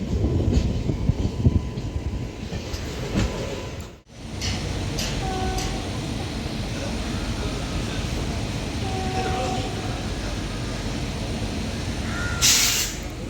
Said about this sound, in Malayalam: ഇപ്പോൾ ആ സ്വിച്ചിങ്ങിലേക്ക് ട്രെയിൻ നീങ്ങുകയാണ്.